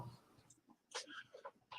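A Boston terrier whimpers faintly indoors, with soft breathy whines and a few brief higher yips scattered in short bursts, quiet and close.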